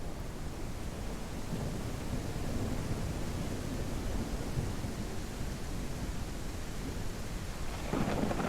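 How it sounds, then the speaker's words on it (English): A thunderstorm rumbles in Bastide, steady heavy rain hiss under a low rolling thunder roar, with a sharper crack of lightning near the end, continuous and fairly loud. "lightning storm"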